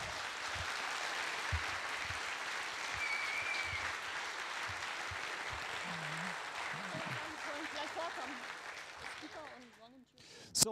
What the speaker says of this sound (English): Big applause for them as well, yes.